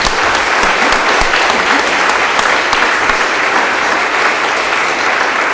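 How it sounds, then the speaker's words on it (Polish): A large crowd at a Kraków youth sports olympiad awards ceremony applauds the organizers, a loud, dense, continuous clapping that holds evenly from start to finish. "Wielkie brawa dla organizatorów."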